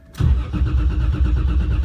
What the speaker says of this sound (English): get it running, but because my tune is not perfect, I kind of have to play around with the throttle until the car warms up